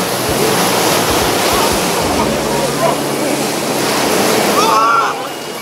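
Sea surf washing onto the shore, a steady broad roar of breaking waves with wind across the microphone, continuous and loud throughout with no talk.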